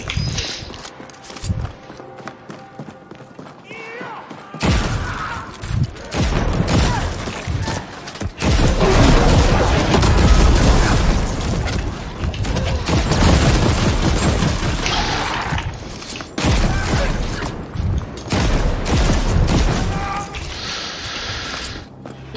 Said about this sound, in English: It's a machine gun that shoots explosive rounds.